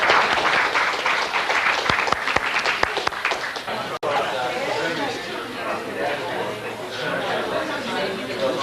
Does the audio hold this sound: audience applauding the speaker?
yes